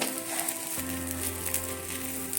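Prawn roast masala sizzling in a pan, a loud, steady close hiss with a soft stirring rustle and a low hum that sets in partway through.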